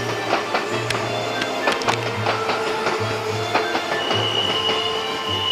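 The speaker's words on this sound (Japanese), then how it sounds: "電車のブレーキ音も鳴ってる。" Kintetsu commuter train braking beside an old brick sluice gate in Oyodo, Nara, with repeated squealing brake tones and wheel clicks over a steady rail rumble, fairly close and continuous for several seconds, with no talk.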